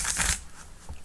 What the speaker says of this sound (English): Very nice shuffle.